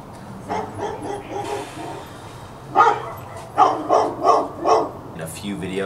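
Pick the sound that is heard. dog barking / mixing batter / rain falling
dog barking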